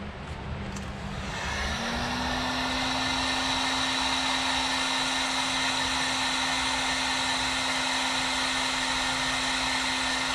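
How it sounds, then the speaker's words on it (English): A heat gun blows hot air during a truck build, a loud, steady, close whoosh that ramps up at the start and holds a constant hum for the rest of the clip. "with the heat gun."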